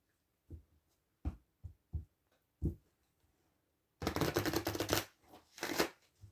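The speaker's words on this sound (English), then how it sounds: "we're going to reshuffle" Several separate tarot card snaps and taps, then a dense riffling burst of the tarot deck being shuffled, close and crisp, with no talking.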